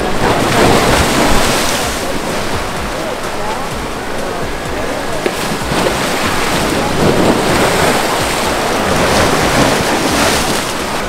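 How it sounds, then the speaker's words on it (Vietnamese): Strong sea waves crash and roar continuously at Tân Thành beach beside a sturdy seawall, loud and close with heavy wind buffeting the microphone throughout. "sóng đánh mạnh quá"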